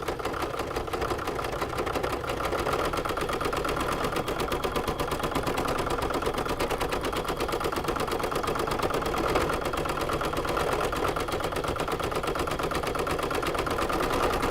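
An embroidery machine stitching an applique felt coaster in the hoop, a steady fast mechanical needle chatter running continuously and close, with no talk over it.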